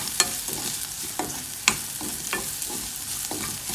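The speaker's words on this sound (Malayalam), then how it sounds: "ഇനി ഇത് നന്നായി വഴറ്റുന്നു, അതിൻ്റെ പച്ചമണം പോകുന്നു." Kozhukatta filling sizzles while it is sautéed in a pan with chilli powder. Steady frying hiss runs under sharp, irregular scraping taps as a spatula stirs it, close up, with no voices.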